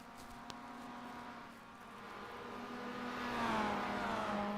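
Mazda MX-5 race cars in a sim racing game run down the back straight of the Adelaide street circuit, a steady engine drone that rises in pitch and loudness over a few seconds, alone without voices.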